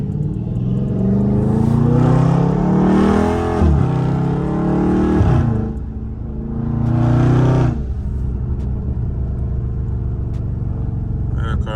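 A Dodge Charger Scat Pack in night traffic revs hard in two long deep, rumbling pulls that rise and fall, loud and close, then settles into a low idle burble with faint crackle.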